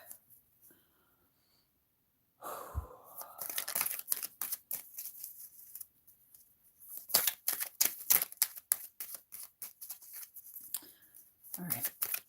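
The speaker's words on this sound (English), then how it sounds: "Let me just shuffle this deck." A deck of playing cards is shuffled, producing quick bursts of crisp fluttering clicks close by, with a person talking around them.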